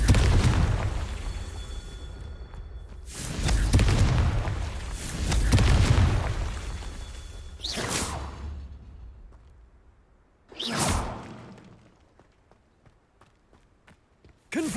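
Confringo spell explosions in the video game Hogwarts Legacy, several loud booming blasts with rumbling tails, then a sharper burst followed by faint footsteps and small clicks.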